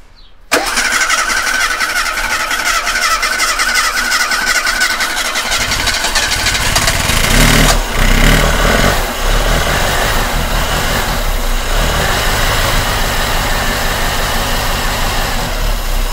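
A car engine cranks and catches after a short silence, then settles into a steady, rough idle close by, with a brief surge of revs partway through.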